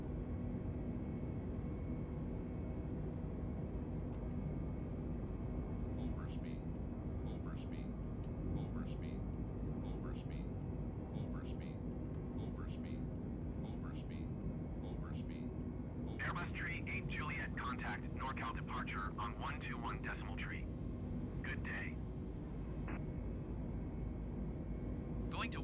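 An Airbus A320neo climbing after takeoff in Microsoft Flight Simulator 2020, heard as a steady, even cockpit drone beneath crackly radio exchanges between controller and crew.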